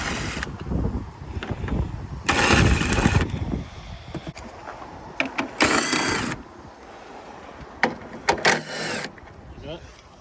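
A ratchet clicks in short bursts while bolts come off the front end of a salvage-auction Hyundai i10, separated by quieter pauses with faint mechanical clatter, close by.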